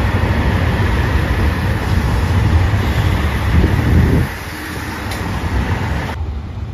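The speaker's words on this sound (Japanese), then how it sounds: "黄色いアンパンマン列車特急南風" JR Shikoku's yellow Anpanman limited express Nanpu rolls through Marugame station with a steady, loud rumble and rush of wind, which drops abruptly to a quieter hum as the train passes.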